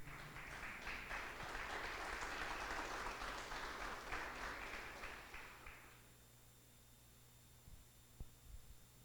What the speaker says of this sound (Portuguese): dê um aplauso ao Senhor Deus